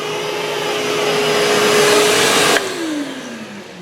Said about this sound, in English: this blower function is definitely really powerful